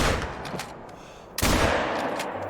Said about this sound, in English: I think the second shot connected, but I could be wrong.